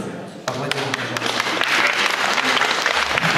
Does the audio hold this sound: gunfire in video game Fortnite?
no